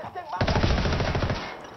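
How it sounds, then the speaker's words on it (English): Gunfire from the video game Ghost Recon Wildlands bursts out as a rapid, loud string of shots lasting about a second. "I went to take a shot and apparently my handgun wasn't reloaded."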